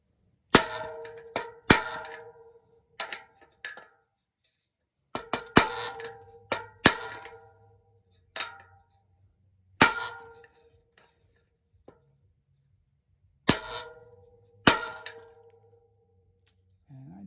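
A hammer taps a bearing into a Powerway R13 hub, giving sharp metallic clanks in short bursts of one to three blows with quiet gaps between, close and loud.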